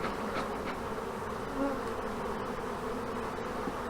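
Honey bees swarm around an old hive after smoking, and their dense, steady buzzing fills the air up close. A few individual bees pass louder near the start.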